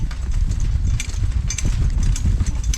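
Horse hooves clip-clopping in a steady canter across a hayfield, continuous and close, with a low rumble of movement and no talk.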